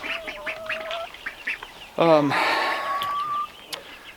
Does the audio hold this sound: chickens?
yes